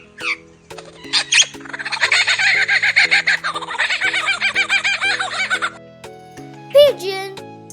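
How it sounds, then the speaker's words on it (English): A superb lyrebird pours out a loud, dense run of harsh, rhythmic calls over background music, then gives a short high whistle near the end. "superb lyrebird"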